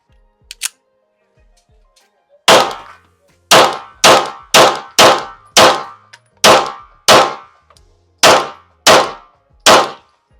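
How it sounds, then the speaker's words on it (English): Twelve sharp 9mm pistol shots from a Tisas Night Stalker DS firing Blazer 124 grain ammunition at an outdoor range, loud and close, arriving as one early pair and then an uneven string of single reports, each with a short decaying ring. "all the Blazer 124 grain loaded up, so let's do some shooting"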